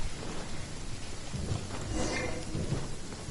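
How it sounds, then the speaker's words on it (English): Steady rain hisses in the video game Genshin Impact, with low rumbles of thunder rolling underneath and a faint surge midway, a continuous dense storm texture without speech. "It's also raining and thundering now"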